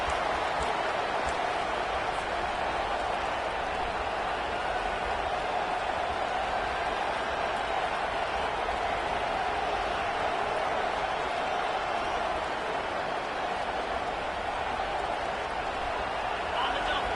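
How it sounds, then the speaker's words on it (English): A Georgia Tech football stadium crowd roars in a steady, dense wash of noise that holds without a break from start to finish, loud and enveloping, like thousands of voices urging the defense on. "The roar of the crowd trying to fuel this defense to keep them pinned in their own end"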